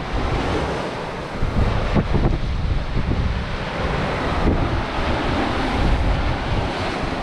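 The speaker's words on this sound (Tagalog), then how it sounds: "mahangin dito mga master, fresco" Strong wind buffets the microphone at a seaside fishing spot, a continuous loud roar with gusts, mixed with waves and surf, and no voices.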